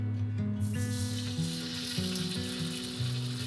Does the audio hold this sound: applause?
no